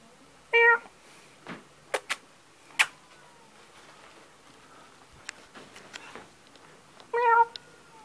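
Kittens at a humane society meowing in short separate calls, two clear harmonic meows near the start and end with a few fainter squeaks and taps between, close and fairly quiet.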